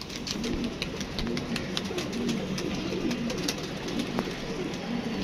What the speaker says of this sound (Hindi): हाँ देखो दोस्तों, ये देखें कैसा कबूतर से